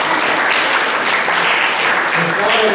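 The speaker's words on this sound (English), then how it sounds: "Give a big clap." Audience clapping in a hall at a Vedic yajna gathering, a loud, dense, continuous burst of applause from many hands filling the room for the whole moment.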